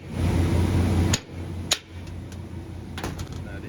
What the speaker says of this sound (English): So all it takes is a little tap of the hammer.